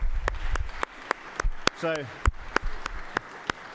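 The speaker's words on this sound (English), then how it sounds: "Y'all give them a round of applause." Guests are recognized in the Georgia Senate chamber with even, rhythmic clapping, crisp claps spaced regularly and fairly close, with a brief spoken word in the middle.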